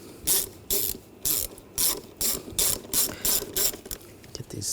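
A ratchet tightens the ignition coil screws on a 2007–2013 BMW X5 3.0L inline-six. It gives about nine quick, even bursts of loud clicking up close, with short pauses between strokes.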